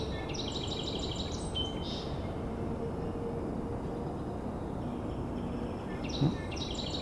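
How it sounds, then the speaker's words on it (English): A Song Sparrow sings in late March: two bright, buzzy phrases, one at the start and a shorter one near the end, heard over a steady low rumble of distant background noise. "this Song Sparrow is very songful right now"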